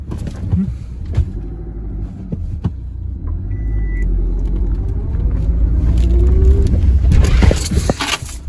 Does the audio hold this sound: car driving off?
yes